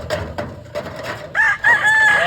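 Chickens cluck nearby, then a rooster crows loudly in a long, rising call that carries to the end.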